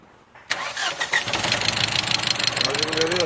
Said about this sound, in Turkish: çalıştır oğlum arabayı